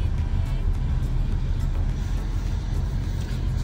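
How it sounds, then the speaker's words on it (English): A car drives across the Hoover Dam on the Arizona side, a steady low road rumble with engine hum and tire noise that holds constant the whole time, no distinct passes or breaks. "driving over the dam."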